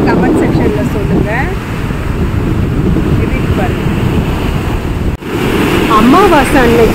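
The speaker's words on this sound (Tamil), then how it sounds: "அலை பாருங்க நீங்களே எப்படி இருக்குதுன்னு சொல்லிட்டு" Ocean waves surge and break on a beach on a new moon day, a loud, continuous roar of surf and wind buffeting the microphone, with faint voices and a brief dip near the end.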